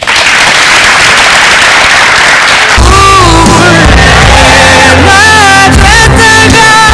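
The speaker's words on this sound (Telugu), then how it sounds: "అందరూ ఇంకోసారి గట్టిగా చప్పట్లు కొట్టండి" Loud studio audience applause on a Telugu comedy talk show fills the first few seconds as dense clapping and cheering, then gives way to music with tonal melody lines and a steady beat.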